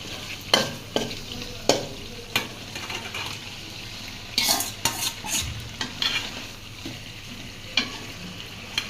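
Fish goes into a cumin and ginger spice paste already fried down in a pan, sizzling steadily while a utensil scrapes and stirs in sharp, repeated strokes close by, with no talking.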